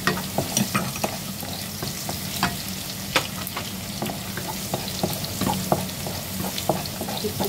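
Ginger and garlic sautéing in a hot pan, a constant close sizzle punctuated by frequent sharp scraping stirs at an irregular rhythm.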